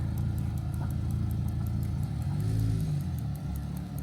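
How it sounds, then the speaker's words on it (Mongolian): Tank 300 Hi4T SUV engine working hard while climbing a steep off-road slope: a steady, loud, close engine drone with a low rumble and a slight rise in pitch midway, under a faint regular ticking. "За манай 300 бас дахиад нэг огцом өгсөж үзэж байна."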